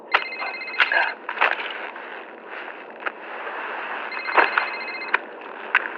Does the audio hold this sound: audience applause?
no